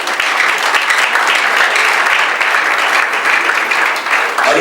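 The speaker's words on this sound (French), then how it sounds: "Est-ce qu'on peut acclamer bien fort?" A conference audience applauds, dense sustained clapping from many hands, loud and close, holding steady for several seconds with no voices over it.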